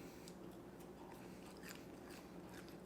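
Crunchy French fries from a barbecue restaurant being bitten and chewed close up, a soft run of crisp crunches with no talking.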